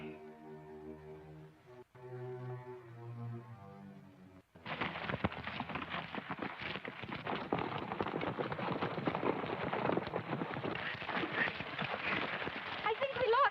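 Rapid hoofbeats of a horse going lame clatter steadily and fairly close for several seconds, following a short stretch of quiet music at the start.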